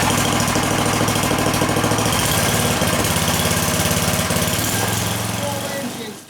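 Small snow blower engine started with choke and a primer bulb pump, running loud and close with a steady, slightly uneven chugging idle as it warms up, then cutting off at the end.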